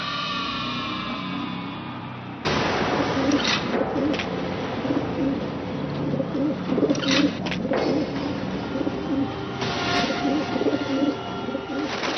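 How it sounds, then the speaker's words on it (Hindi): Two birds are set loose to fly as archery targets, with soft, repeated dove-like cooing over a dense, steady rush of flutter and outdoor ambience that swells abruptly after a quieter start and continues to the end, with no talking. "आज एक नहीं 2 पक्षी उड़ाइए"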